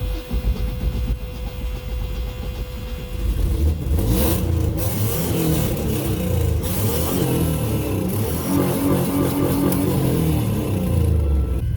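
A turbocharged Chevrolet Silverado pickup engine starts up and revs hard to redline, a loud, close mechanical roar that rises and holds with repeated throttle surges and no talking.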